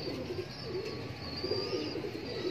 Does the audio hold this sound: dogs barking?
no